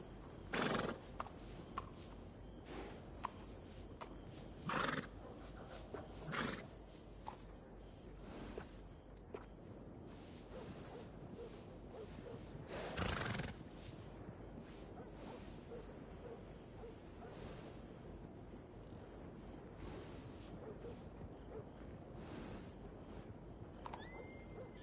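A horse in Red Dead Redemption 2 whinnies loudly several times at a stable, the neighs standing out over steady clip-clopping hooves and shuffling footsteps nearby, with no talk heard.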